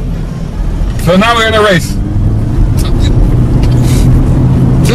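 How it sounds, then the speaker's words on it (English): A Lexus CT200h hybrid drones with a low, steady engine hum heard from inside the car on an economy run in Dubai, sitting under a person talking. "the engine does have a bit of a drone about"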